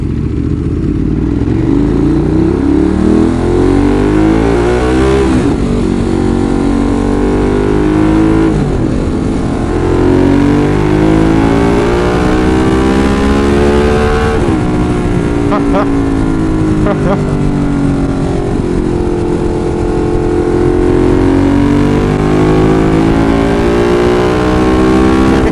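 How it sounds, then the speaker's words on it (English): A Ducati 916 motorcycle accelerates hard through repeated rising engine sweeps, its exhaust giving off small crackles, loud and close for the whole stretch, with people talking over it. "this bike, and listen to it, some nice little crackles from the exhaust"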